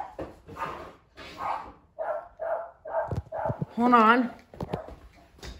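A dog barks a few times close by, a short burst of yelps rising over ongoing conversation between several people.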